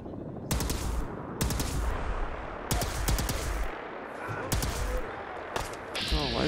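Rapid bursts of gunfire in a video game firefight against raiders, five or six sharp volleys spaced about a second apart, loud and close, with brief quieter gaps between.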